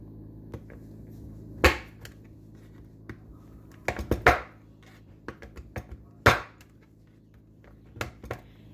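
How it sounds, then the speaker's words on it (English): A sharp, strong knife chops dark chocolate on a board in irregular close thuds, with a few loud, crisp strikes and quieter taps separated by pauses, heard alone without voices. "It's easier if you let your chocolate sit out at room temperature, so it can chop easily."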